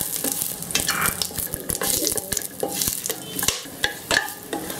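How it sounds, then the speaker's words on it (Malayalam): Cardamom and cloves sizzle in hot coconut oil in a cooker while a spoon stirs and scrapes repeatedly, a close, busy frying crackle with frequent metallic clinks. "എന്നിട്ടൊന്ന് വഴറ്റാം."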